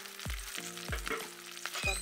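Vegetables sizzle in a hot pan while a utensil stirs them, giving three distinct scraping strokes over a constant crackling fry, close and with no talk.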